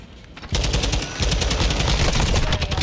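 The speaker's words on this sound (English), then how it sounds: "Does homie have a turret?" Rapid automatic turret fire from Call of Duty Modern Warfare II breaks out after a half-second lull and hammers on continuously, loud and close, as dense overlapping bursts with no voices.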